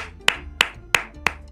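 Four sharp hand claps at an even, unhurried pace, close and distinct, the way someone claps to call at the door of a home that has no doorbell, with quiet background between the claps.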